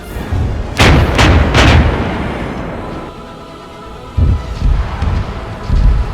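Artillery shells firing and bursting in a heavy barrage during an enemy bombardment: three big booming blasts in quick succession, then a lull with low rumble and further thudding impacts, loud and close.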